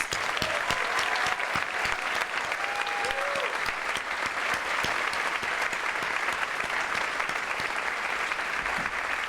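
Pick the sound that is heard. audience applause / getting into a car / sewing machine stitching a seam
audience applause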